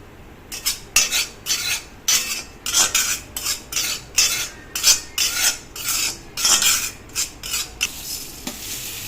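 Chili powder stirred in a hot pan for a curry-leaf chutney powder, heard as a rapid run of close, rhythmic metal scraping and clinking strokes with a faint sizzle underneath and no voices.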